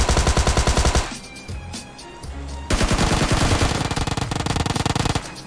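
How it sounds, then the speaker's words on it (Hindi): Rapid automatic gunfire from PUBG Mobile Lite, a loud sustained burst that pauses for about a second and a half, then resumes just as dense and loud, with no talking over it. "बस मैं अंदर जाके प्री फायर पूरा पहले लगता हूँ"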